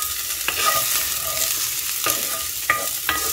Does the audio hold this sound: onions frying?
yes